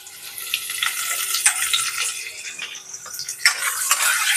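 Curry leaves frying in hot oil for a moong dal tadka, giving a steady close crackling sizzle with sharper pops scattered throughout and no voices.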